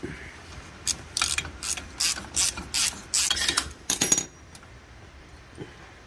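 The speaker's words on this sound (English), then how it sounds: "You take your ratchet and turn it the rest of the way out." A ratchet clicks in quick bursts as it backs a bolt out of a Toyota rear differential third member on a T100/Tacoma/4Runner, close and clear, several short runs of ratcheting followed by quiet.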